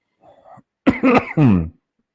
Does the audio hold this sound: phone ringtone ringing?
no